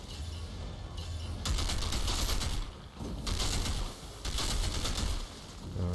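Rapid bursts of gunfire from the video game Outriders, loud sustained volleys in several waves separated by brief lulls, with no talk over them.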